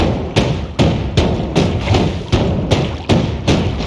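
Spell explosions in the video game Noita strike the player character in an even series of about eight heavy, punchy thumps, roughly half a second apart, loud and up close.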